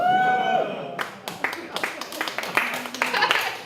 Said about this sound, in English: You don't have to keep clapping like that.